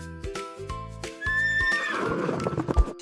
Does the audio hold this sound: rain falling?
no